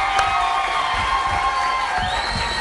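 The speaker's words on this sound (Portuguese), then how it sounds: "Eu quero pedir uma forte salva de palmas para na Nagreia dos Lobos." Crowd on a TPA 1 television variety show cheers and applauds for the performer Nagrelha dos Lambas, a loud, continuous roar of voices and whoops with clapping underneath and a bright tonal sound running through.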